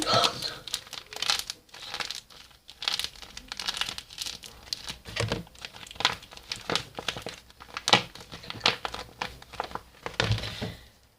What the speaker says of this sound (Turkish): Bantları da keseceğim